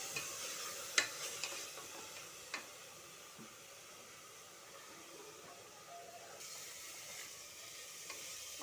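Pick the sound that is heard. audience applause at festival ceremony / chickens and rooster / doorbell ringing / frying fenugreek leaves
frying fenugreek leaves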